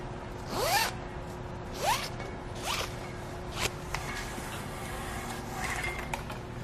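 Strap on a Thule Helium Pro three-bike hitch rack being pulled free, giving several quick zipping rasps at a steady pace, the first loudest, then fainter scrapes and ticks.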